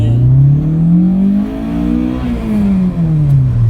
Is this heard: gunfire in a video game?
no